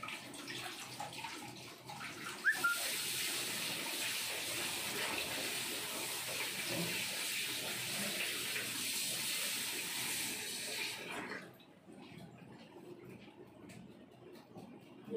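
Tap water running steadily into a sink during washing up in a kitchen while making orange juice, a loud continuous splashing rush for about nine seconds that then cuts off, leaving quiet room sound.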